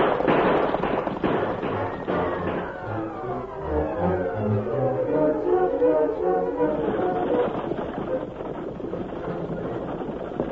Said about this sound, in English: Inside the stagecoach, Ebenezer was startled when the gunfire was heard.